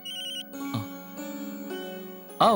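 A telephone ringtone plays in a home setting, a steady electronic melodic ring lasting a couple of seconds with a brief break, fairly clear and unaccompanied by speech.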